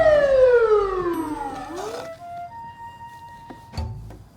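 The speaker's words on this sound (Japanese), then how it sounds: "消防車、" A fire engine siren, part of a picture-book read-aloud about working vehicles, wails loudly in long falling sweeps, then settles into a steadier, quieter wavering tone with brief bumps near the end.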